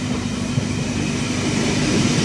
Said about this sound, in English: We'll have a V-set about passing platform number 2.